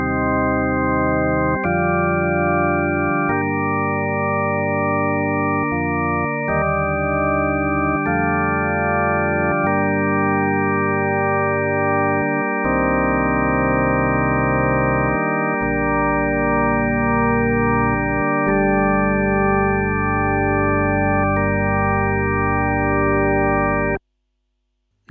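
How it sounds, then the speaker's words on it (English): Sustained organ-like chords from a Yamaha TX81Z FM synth with all operators in parallel, steady held tones shifting through a slow progression for about twenty seconds, then cutting off; loud, clean and without voices. "if you send all of them out in parallel, then you're going to get something more of an organ sound like this"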